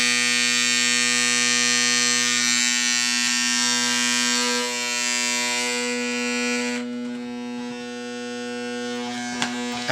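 New hair clippers straight out of the box before adjustment, a loud, harsh steady buzz with a strong hum, running close and unchanging for most of the stretch before the tone eases slightly.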